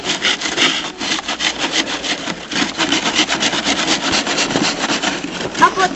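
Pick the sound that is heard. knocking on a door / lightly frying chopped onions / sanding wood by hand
sanding wood by hand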